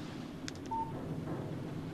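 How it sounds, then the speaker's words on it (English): A short electronic phone alert signals an incoming text message in the Alan Wake video game, a brief clean tone over a low ambient game background with no one talking. "Text message from Barry"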